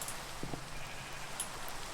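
Sheep bleating in the Minecraft video game, a short faint cry heard once against a quiet background, with no talk over it.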